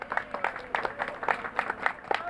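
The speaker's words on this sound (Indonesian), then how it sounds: "Tepuk tangan" Audience applause at a regional government event, scattered hand claps rising and falling at moderate distance, fairly faint and uneven with some crowd murmur beneath.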